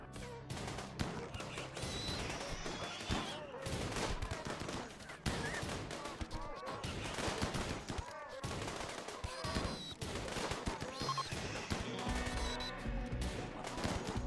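Shotgun fire in RimWorld: repeated sharp blasts mixed with other gunfire and impacts, scattered across a busy battle, moderately quiet overall, with an occasional voice underneath.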